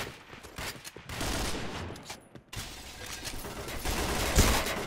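Rapid bursts of gunfire in the video game Point Blank crackle in dense volleys, loud and continuous, with brief pauses between bursts.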